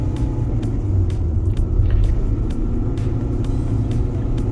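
A Toyota Voxy Hybrid climbs a slope slowly. Its low engine and road rumble drone steadily from inside the cabin, with faint ticking sounds now and then.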